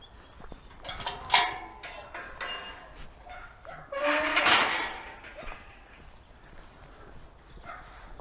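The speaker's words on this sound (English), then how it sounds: "There's a couple of dogs up there you can hear barking" Several dogs bark in the distance up a country park path, a scattered volley of yaps with a louder cluster partway through, over faint outdoor ambience.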